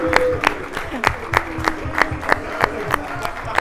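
Studio audience applauds and cheers as a guest comes on stage at a football talk show, steady rhythmic clapping with crowd noise, fairly loud and close.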